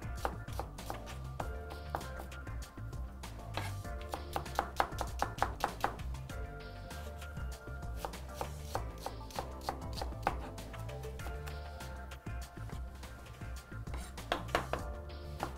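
Onion chopped with a knife on a board, a fast run of sharp, evenly spaced taps in close bursts with short pauses between, clear and unaccompanied by speech.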